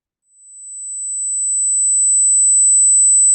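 A pure 8,000 hertz sine wave test tone played during a special education session: one steady high pitch that fades in over about a second, then holds evenly and alone until it cuts off.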